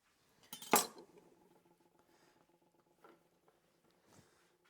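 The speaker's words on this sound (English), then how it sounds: "I'm just gonna put my knife in the middle and cut them." A knife cuts through soft, microwaved purple beet tortillas on a kitchen counter: one sharp, crisp slice up close, then faint scrapes and light taps.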